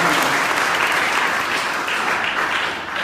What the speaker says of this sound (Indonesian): Oke, tepuk tangan buat dua gitu.